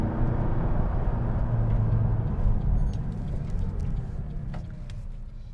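A Sports Series sports car's engine during a test drive, heard as a steady, dense rumble that holds throughout with no distinct gear-shift break, plus faint scattered high ticks.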